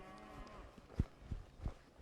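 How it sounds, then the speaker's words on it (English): Cattle being herded from horseback let out several low moos, three stronger calls spaced about a third of a second apart over a steady outdoor background. "I'm going to get right to the front of these cattle."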